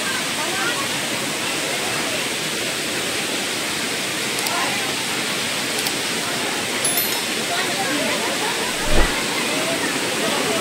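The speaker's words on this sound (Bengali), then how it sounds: "ঝর্ণার জল" A waterfall in Purulia roars with dense, continuous splashing water, loud and broadband throughout, with a brief bump of handling noise near the end.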